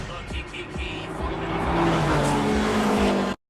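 Racing cars from the film Fast Five roar past with revving engines and a rising whine, loud and close, a Nissan 370 off-road machine racing a Subaru, ending abruptly.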